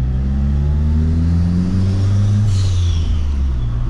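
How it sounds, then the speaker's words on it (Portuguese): A turbocharged Opel Kadett GL with a forged engine of about 300 hp accelerates hard, its loud, steady engine rumble rising in pitch, with a brief hissing whoosh partway through. "Quando você dá uma puxada mais forte, você percebe que ele tem realmente uma capacidade de aceleração"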